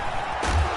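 Washington Football Team and New England Patriots fans roar in an NFL stadium, a loud, continuous wash of crowd cheering that swells in the second half of the moment.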